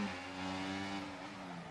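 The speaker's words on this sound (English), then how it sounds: "His car is skidding all over the place." A Formula 1 race car in the F1 24 video game roars at high revs with a sustained engine whine and tire noise as it skids, loud and continuous throughout.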